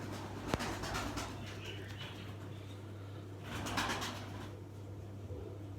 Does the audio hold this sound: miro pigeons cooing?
yes